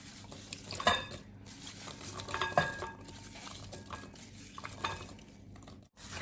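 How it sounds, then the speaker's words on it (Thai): Corn and apple being stirred together in a bowl for a spicy Thai tuna apple salad, with soft clinks of a spoon against the bowl and wet shuffling, close and quiet, no talk. "แล้วก็คนข้าวโพดกับแอปเปิ้ลให้เข้ากันก่อนนะคะเพื่อน"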